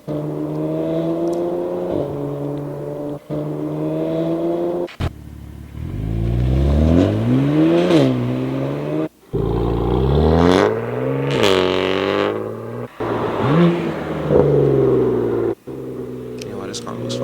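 A car engine revving and accelerating, its pitch climbing in repeated surges with brief breaks between them. Someone talks loudly over the engine.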